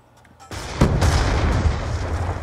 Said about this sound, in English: Oh, he threw nade.